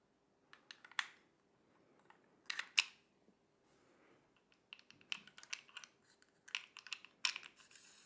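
35mm film being rewound by hand inside a Fujica, Minolta, Voigtländer Vitoret D or Kodak camera, heard as faint close clicking and ratcheting in irregular bursts with quiet pauses, no talk.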